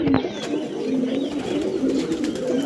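Punjabi pigeons coo in a steady, low, rolling murmur, several birds close by calling over one another with soft throaty pulses throughout.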